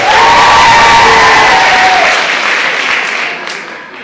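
A large crowd at a suicide prevention community event in Willmar applauds and cheers loudly for a dancer, with sustained clapping and some whoops that gradually thin out toward the end.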